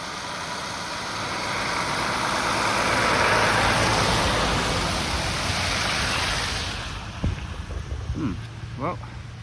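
A vehicle passes along a metal track, a minor road near Goathorn Farm on the Goathorn Peninsula. Its broad rumble swells over several seconds and then fades, followed by faint nearby knocks and rustles.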